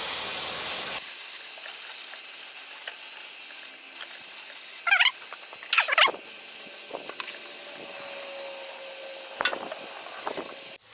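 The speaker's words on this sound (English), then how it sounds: "we can clean and spray away." Cleaner sprayed onto a Gator utility vehicle engine: short, close hissing spray bursts stand out from a steady background hiss, with no talk.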